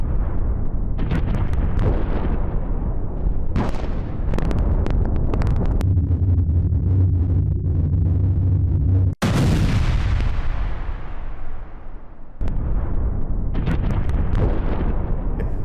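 Explosions from an Israeli air strike on Gaza: loud, continuous blasting and rumbling booms with sharp cracks, a sudden heavy burst midway followed by a long decaying roar, then renewed dense rumbling, no speech.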